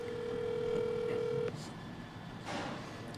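A steady ringback tone sounds through a phone on speakerphone for about a second and a half, then cuts off, leaving faint room noise and a soft rustle.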